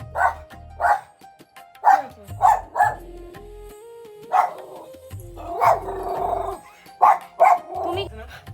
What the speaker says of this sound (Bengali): কুকুর? কি কুকুর এটা? পাগলা কুকুর নাকি বাজারের?